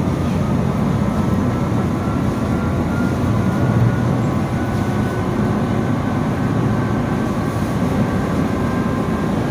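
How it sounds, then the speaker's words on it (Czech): A steady rumbling roar of a historic tram in motion on line 2 toward the Střešovice depot, wheels and motor droning evenly throughout, with a faint high whine on top. "No tak druhý video z historický tramvaje"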